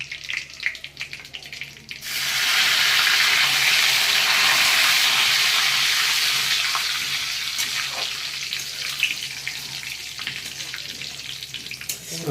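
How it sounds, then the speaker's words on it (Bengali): Crushed cardamom and bay leaf hitting hot ghee, bursting into a loud, sudden sizzle after a quiet start, then settling into a steady frying hiss with occasional stirring clicks and no voices. "ঘি গরম হয়ে গেছে এবারে আমি দেবো এটা থেঁতো করা এলাচ আর তেজপাতা"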